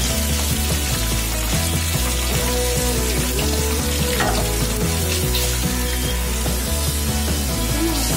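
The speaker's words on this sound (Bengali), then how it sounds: "ভালো করে বিনস গুলো ভেজে নিতে হবে।" Green beans fry in a pan with a steady, full sizzle that runs throughout, while rhythmic background music plays loudly underneath.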